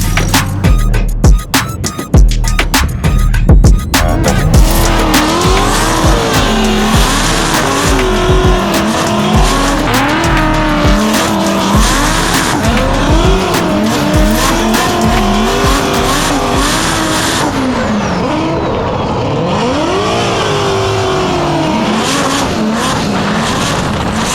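Fast wagon car lapping a tight go-kart track at a Grid Life event, its engine loud and close, rising and falling through gear changes, with squealing tires on the corners.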